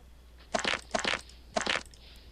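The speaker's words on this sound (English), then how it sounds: "Has it always made that annoying crunching sound?" Three short crunching bursts, evenly spaced and fairly loud, from the video game Avernum: Escape from the Pit, each a dry, gritty crunch over a faint background hum.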